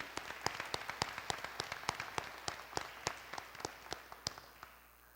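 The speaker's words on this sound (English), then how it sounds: "let's give him a round of applause to thank his contribution" A small audience at a university teacher appreciation event claps in distinct, fairly sparse individual claps with a steady rhythm, moderately distant, fading toward the end with no talk.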